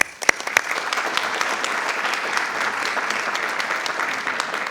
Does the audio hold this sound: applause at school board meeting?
yes